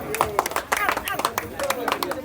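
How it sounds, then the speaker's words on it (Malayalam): A small group of people claps in quick, uneven rhythm, nearby, mixed with people talking over it. "എല്ലാവരും കൈയടിച്ചേ"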